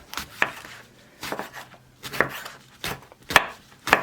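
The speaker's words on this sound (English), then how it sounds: "I might just chop it up a little bit more." Knife chopping ingredients for vegan meatless meatballs on a board, six separate crisp cuts spaced about half a second to a second apart, close and clear with nothing else around.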